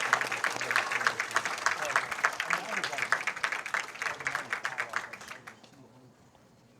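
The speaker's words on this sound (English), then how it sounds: "a huge round of applause here at the PWBA BowlTV Classic" Steady applause from an indoor crowd at a professional women's bowling tournament, dense and continuous for several seconds before tapering off into quiet.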